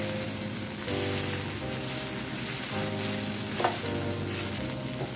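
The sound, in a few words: shrimp fried rice frying in pan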